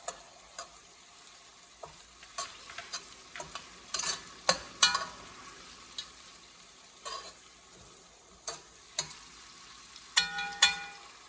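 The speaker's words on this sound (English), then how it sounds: "I'm going to add chopped rosemary. Get it those aromas, mix it up" Venison in red wine with chopped rosemary being stirred in a pan, soft scraping strokes and clicks at irregular intervals over a low, steady sizzle, fairly quiet and without talk.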